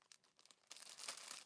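A plastic bag crinkles up close, first in a few light rustles, then in a louder, denser crackle of handling for the last half.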